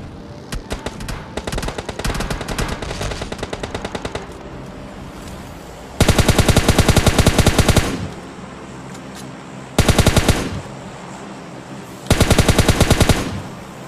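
Automatic gunfire from PUBG Mobile Lite rattles in rapid bursts. A lighter run of shots is followed by three loud, dense sprays of fire separated by short pauses, with no speech.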